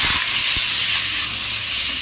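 Pointed gourd pieces coated with salt and turmeric fry in a pan with a loud, steady hiss and sizzle, close and continuous with no talking.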